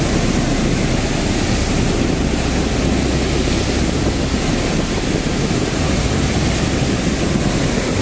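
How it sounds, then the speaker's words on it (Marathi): Water pours fast from above, a dense, loud, unbroken roar that fills the whole stretch with no talk over it. "एकदम स्पीडने पाणी पडतं इथून वरून."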